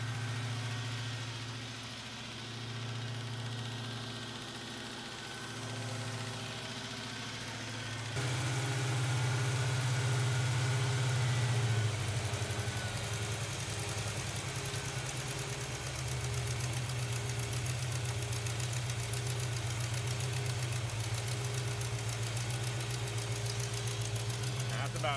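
An abandoned 1970 Oldsmobile Cutlass engine idles steadily and fairly close, with a low, even rumble. The idle rises and gets louder partway through, then settles into a smooth running drone.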